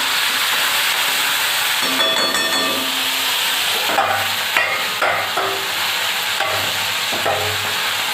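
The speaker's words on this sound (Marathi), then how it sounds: "आता आपलं फोडणी होत आहे" Loud, continuous sizzling of a spice tempering in hot oil, with scraping stirs and occasional knocks of a utensil against the pan.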